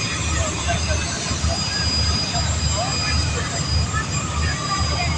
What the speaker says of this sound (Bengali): খুব সহজেই মানামি ওটি দিয়ে দিচ্ছে সুন্দরবন 16কে।